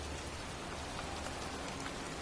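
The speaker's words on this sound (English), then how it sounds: "It's cold. It's raining." Steady, dense rain falls outdoors on a cold day, a constant hiss of drops with no breaks or thunder.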